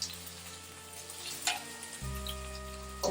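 Onions dropping into a hot stir-fry pan with vegetables, giving a steady broadband sizzle that swells louder after a couple of seconds as more hits the oil, close and continuous with no talking.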